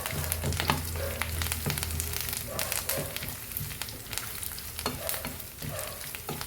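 Curry leaves hit hot oil in a pan of Angamaly-style beef fry, crackling and sizzling loudly up close, with repeated stirring scrapes and clinks and no voices.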